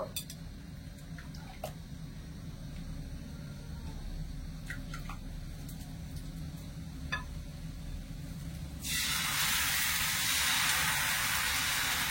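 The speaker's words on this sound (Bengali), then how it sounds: "আবারও নিচের দিকটা মিডিয়াম আছে একটুখানি ভেজে নেব" Rice batter frying in a little oil in a pan, a soft steady sizzle under low background noise with a few light clicks, then a brighter, louder hiss rising near the end.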